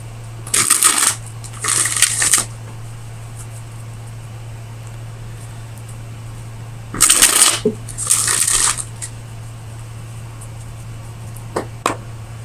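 Tarot cards are shuffled in two pairs of quick riffling bursts, close and crisp, separated by a few seconds of quiet room hum. A couple of faint taps follow at the end.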